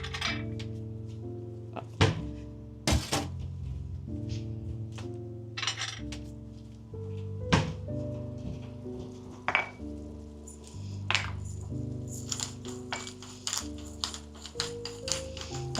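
Knife mincing garlic cloves on a cutting board in a kitchen, a string of close, uneven chopping thunks and taps over a steady low hum, with no talking.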